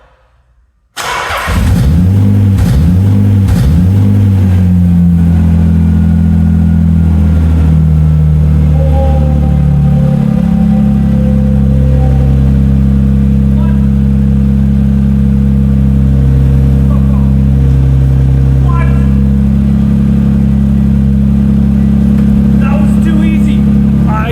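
A Nissan 300ZX's engine cranks and catches, then gets a few quick, loud revs before settling into a steady, close idle, with a voice talking over the running engine.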